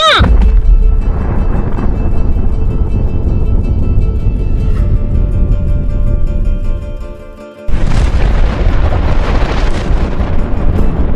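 A massive nuclear bomb detonation roars as a loud, sustained rumbling blast, dipping briefly before a second surge of broad, thundering noise, with no talk.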